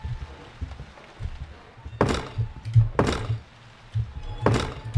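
Heavy door thuds and bangs repeat about once a second, each a deep, reverberant knock, amid a creepy ambient hallway drone in a P.T remake horror video game.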